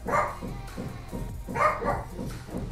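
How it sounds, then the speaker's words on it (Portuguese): A dog named Bunny barks in two short bursts of repeated barks, loud and close, with a gap between them. "O Bunny tá latindo, meu irmão."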